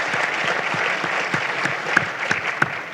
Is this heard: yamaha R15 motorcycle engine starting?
no